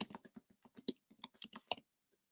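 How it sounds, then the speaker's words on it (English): Scattered key clicks from typing on a computer keyboard, sparse and uneven taps close by, with a sharper click at the end and no talking. "I'm just sitting here typing in sites now."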